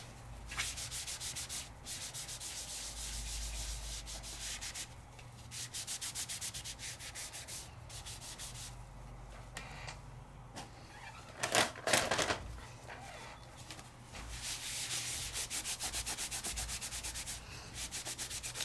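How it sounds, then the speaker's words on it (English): Baby wipe rubbed over an embossing folder to clean it, close soft scrubbing and swishing strokes in irregular bursts, with a few louder handling clatters partway through. "your embossing folder is going to clean up with a baby wipe"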